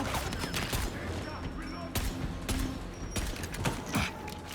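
Gunfire in the video game Dying Light: The Beast: repeated sharp shots and bursts over a dense, rumbling game soundscape, loud and close, with a few heavier impacts standing out.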